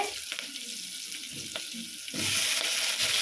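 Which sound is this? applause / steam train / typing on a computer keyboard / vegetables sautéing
vegetables sautéing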